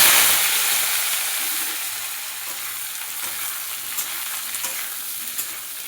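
Sliced ridge gourd and potato hit hot oil tempered with black cumin, giving a steady close sizzle and crackle that eases slightly after the first moments, with a few light utensil clicks.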